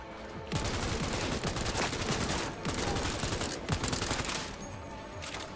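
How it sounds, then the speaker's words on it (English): An assault rifle fires in Cyberpunk 2077 in long, dense automatic bursts, loud and close, with brief gaps between volleys and no talking. "not so sure about the recoil on the assault rifle"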